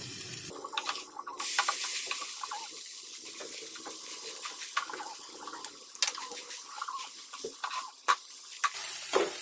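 Pav bread rolls spread with pav bhaji masala roasting in a pan, with soft sizzling and scraping stirs and pressing as the bread is turned, moderately quiet and close, no talk.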